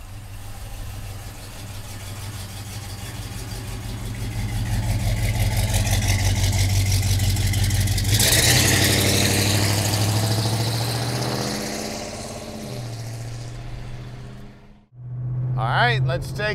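A 1970 Chevrolet Monte Carlo big block engine runs close by with a deep, steady idle rumble that swells louder for several seconds, then eases and cuts out briefly before resuming near the end.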